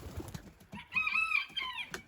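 An ailing rooster in a backyard hobby poultry pen gives a strained, wavering crow after a few soft scuffling sounds, moderately close and without speech.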